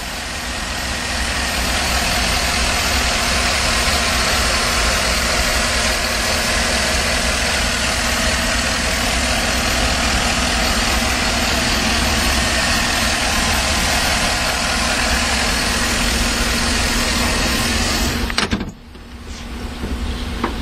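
A Chevrolet Tahoe's 5.3-liter Vortec V8 idles steadily with a loud, even rumble and hum that dips briefly near the end, with no voices.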